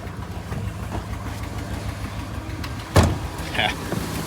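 A 1970 Fargo truck with a Cummins diesel rumbles along at a low, steady idle-like drone, broken by a sharp knock or clunk near the end and a short whine afterward.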